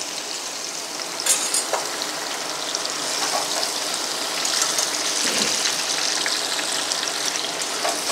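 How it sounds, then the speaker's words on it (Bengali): Pieces of young jackfruit frying in hot oil in a wok, a close, even hiss of sizzling that runs the whole time, with occasional faint pops and stirring scrapes. "এবার কড়াইতে তেল গরম করে আমি এঁচোড়গুলো দিয়ে দিচ্ছি ভাজতে"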